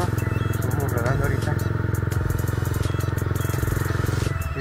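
A 170cc motorcycle with 20,000 kilometres idles and putters steadily and close, a continuous throaty rumble with some clattering.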